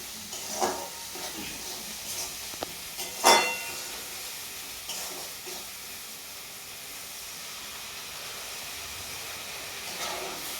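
Water poured into a pan of hilsa fish mustard curry, a soft steady hiss and sizzle with a brief louder splash early on, then simmering bubbling, close and moderate in level.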